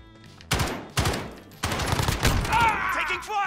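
Gunfire in the video game Call of Duty: Modern Warfare, loud sharp shots in quick bursts and a rapid sustained volley, with a faint voice-like tone near the end.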